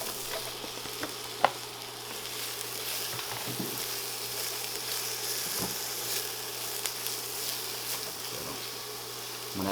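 Sliced onion and baby portobello mushrooms sizzle in an oiled pan, a steady hiss broken by a few scrapes and stirring taps, no talking.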